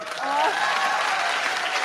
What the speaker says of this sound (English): I think we can just clap really loudly one more time.